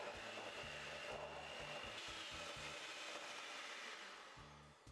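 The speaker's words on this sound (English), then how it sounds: "Now we'll stir this in with our mixer on high speed for about 30 seconds" Electric hand mixer running on high speed while stirring cookie dough frosting in a bowl, a faint, continuous whirring hum with an uneven low rattle of the beaters throughout.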